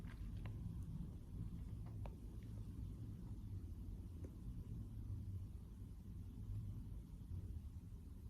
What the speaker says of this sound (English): It's excessively windy. You may occasionally hear the wind blowing.